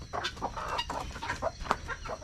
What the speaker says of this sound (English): We got our black Moran roosters in here.